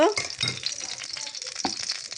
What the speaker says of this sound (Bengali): এই তো ফ্রাই প্যান গরম করে তেল দিয়ে দিব।